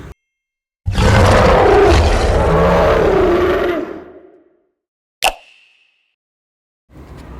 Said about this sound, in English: I am lion.